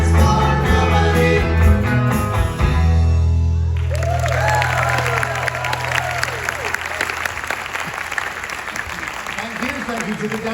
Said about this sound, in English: Give them a big round of applause, you dancers.